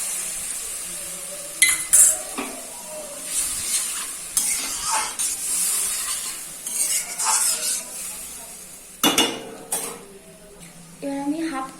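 Water goes into a pan of egg, poppy seed and mustard curry, bringing a steady sizzle with stirring scrapes and occasional clinks of a utensil against the pan, close and moderately loud.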